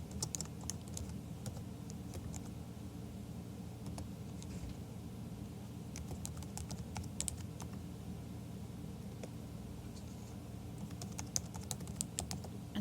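Typing on a computer keyboard, a quiet, irregular patter of key clicks in short bursts and pauses over a soft steady background hum.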